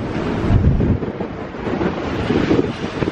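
Strong gusty offshore wind buffets the microphone aboard a catamaran motor sailing close to shore, a loud continuous roar that surges and eases in gusts, with no speech.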